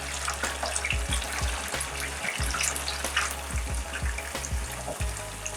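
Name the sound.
honey bananas frying in oil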